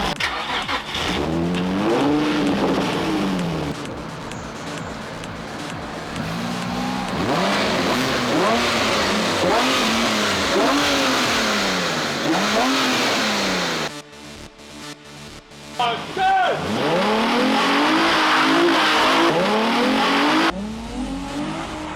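A VW camper fitted with a 1.4-litre Polo engine revs hard and close, its pitch climbing and falling in repeated bursts, with a brief dip partway through before the revving resumes.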